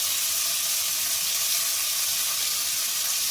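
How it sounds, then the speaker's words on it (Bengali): Chicken with turmeric, coriander and other spices fries in a pan, giving a constant, fairly loud sizzling hiss with no talking. "চিকেনটা দিয়েও ভালো করে ভেজে নেব।"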